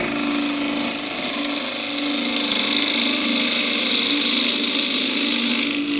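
A 3/8 spindle gouge cuts a cross-grain wooden box on a lathe, giving a loud, steady, continuous scraping whine that holds without pause throughout.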